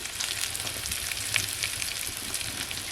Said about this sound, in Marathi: आता आई छान प्रकारे फ्राय करून घेते